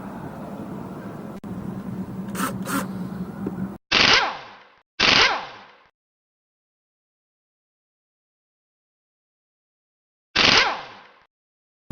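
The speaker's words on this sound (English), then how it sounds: "let me get my screw gun and we'll check out this" A screw gun drives screws into an Igloo cooler seat hinge, giving three separate loud, short whirring bursts with silence between them, after a stretch of low room noise.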